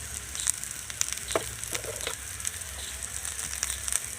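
Soy chunks and vegetables fry with turmeric in a pan for khichuri, giving a steady close sizzle broken by repeated stirring clicks and scrapes, moderately loud and with no voices.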